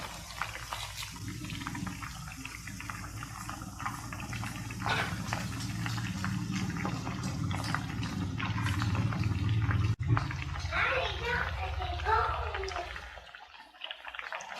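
Chicken frying in oil over a low flame with curry leaves, a dense continuous sizzle and bubbling close by, steady throughout before cutting off near the end.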